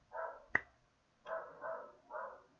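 Dogs bark in a few moderately loud, rough bursts spread over about three seconds, with a sharp click between the first and second bursts and no talking.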